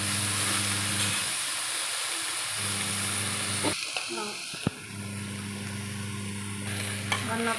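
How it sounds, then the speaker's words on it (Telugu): Soaked rice being stirred in a frying pan that already holds fried spices. The rice sizzles steadily while a spoon scrapes and stirs it, and a voice talks over it for most of the clip. "జస్ట్ 2 మినిట్స్ అలా బియ్యాన్ని మొత్తాన్ని అలా కలుపుకోవాలి"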